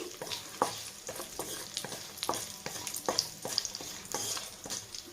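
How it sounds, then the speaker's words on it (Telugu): Cashews and whole biryani spices fry in oil in a pan, a soft steady sizzle broken by repeated scraping stirs and light clinks, close but fairly quiet. "ఇప్పుడు బిర్యానీ దినుసులన్నీ వేసుకుందాము ఇది కూడా కొంచెం వేగాలి"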